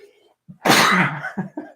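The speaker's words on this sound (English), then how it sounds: "I have a sneeze." A single loud sneeze with a short sharp inhale before it, followed by a couple of brief breathy sounds.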